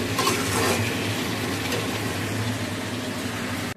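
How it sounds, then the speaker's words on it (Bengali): Cauliflower and potato curry simmers in a pan, a steady low bubbling and soft sizzle running evenly throughout, close and fairly quiet with faint utensil clinks near the start. "আর এইদিকে করে নিচ্ছি ফুলকপি আলুর তরকারি।"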